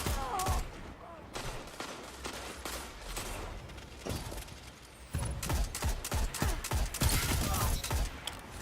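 Rapid bursts of gunfire from the Mida Multi-Tool scout rifle in Destiny 2, sharp repeated shots in clusters with louder volleys near the end, plus some game effects.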